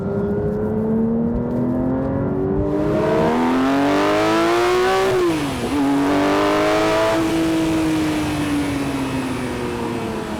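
A Porsche 911 S/T engine revs hard toward 9,000 RPM, its loud rising howl climbing through the gears with a brief dip at a shift, then settling into a sustained high-pitched wail, heard close with no talking.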